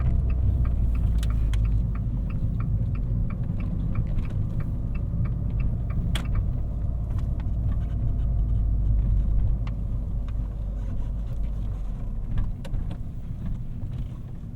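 A 2018 Fiat 500 Pop driving on the highway, heard from inside the cabin as a steady low road and engine rumble with faint ticking and small rattles over the full length.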